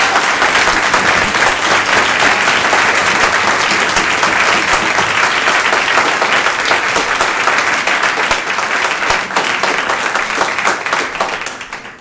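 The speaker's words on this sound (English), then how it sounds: "So that round of applause was congratulations" Loud, dense applause from a large audience at a 2015 national championship competition round, sustained at full strength with a thick wash of clapping and faint crowd noise before tapering at the end.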